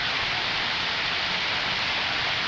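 Heavy rain pours steadily at a house, water running off the roof in a dense, even hiss close by with no pauses and no voices.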